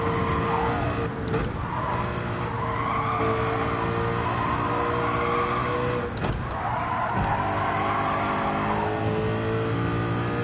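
A race car engine revs steadily in Gran Turismo 7, a constant loud drone with bright harmonic tones. The pitch holds fairly even, with brief tire noise around the middle.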